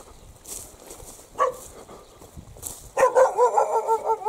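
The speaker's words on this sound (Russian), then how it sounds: "Ох, Ванина собачка" A small dog barks in a rural village yard on arrival from the city, with a few faint yaps early on and then a louder, rapid run of barks close by toward the end.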